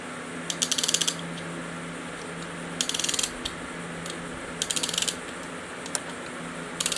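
A ratchet tightens a piston ring compressor around the pistons during a Classic Mini engine rebuild, giving several short bursts of rapid close clicking separated by pauses, over a low background hum.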